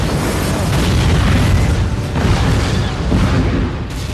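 A loud explosion in a superhero action film, a sustained rumbling blast with a dense roar that rolls on through the whole stretch, no voices over it.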